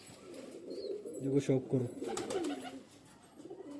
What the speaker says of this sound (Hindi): खुले दुम का कबूतर है, सॉफ्ट बॉडी का एकदम कबूतर है।